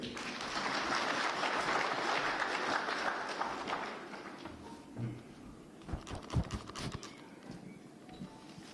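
Crowd applause at a Kenyan political meeting with Raila Odinga and Central Kenya leaders, a faint, fairly distant patter of clapping that fades after a few seconds into scattered claps and thumps.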